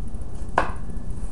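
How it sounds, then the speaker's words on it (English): A single knife stroke slicing through a celery stalk on a cutting board while cutting it into planks, one brief crisp chop standing out clearly over quiet kitchen background. "We're gonna cut that into thirds"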